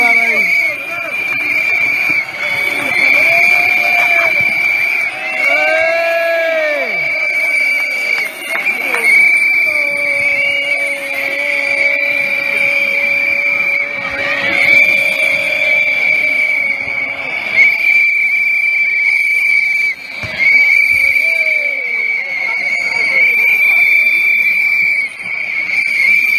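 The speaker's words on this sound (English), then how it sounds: "There appears to be a lot of whistles being blown" Many whistles shrill at once across a valley in a crowd setting, with a steady piercing tone running throughout and bursts of rising and falling whistles over a murmuring crowd, while people talk.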